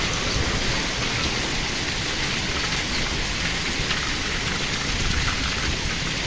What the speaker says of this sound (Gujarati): કડાકા ભડાકા સાથે વરસાદની ધમાકાદાર એન્ટ્રી થઈ ગઈ છે